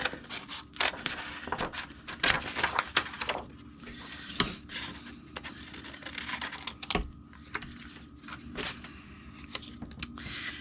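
A paper card piece is being cut out, heard as a long run of small, dry clicks and crisp snips at close range, with no one speaking.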